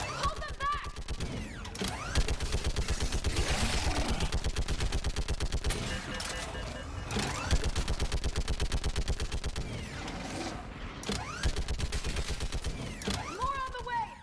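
Rapid, sustained automatic gunfire rattles continuously through a Mass Effect 3 battle on a bridge, with dense mechanical clatter and occasional shouted voices over the barrage.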